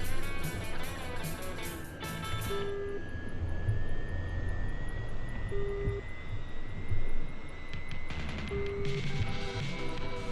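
Engine roar from an Su-33 jet in the DCS flight simulator, a steady, fairly loud whine and rumble with a rising tone and a few short electronic beeps layered over it.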